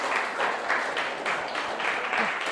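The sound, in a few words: applause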